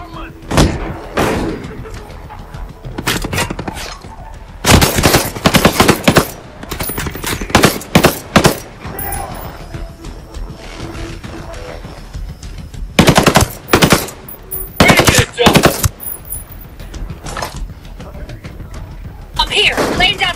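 Rapid automatic rifle bursts and single gunshots ring out repeatedly in the tactical shooter Ghost Recon Breakpoint, loud and close, interleaved with quieter stretches of combat ambience and occasional voices talking.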